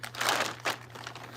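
A plastic bag crinkles in two short, close bursts of rustling, with no voices over it.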